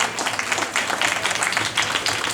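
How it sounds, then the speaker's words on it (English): A reception audience applauding with dense, steady clapping from many hands, filling the room evenly and fairly loud, with no speech over it. "So please give a round of applause to yourself"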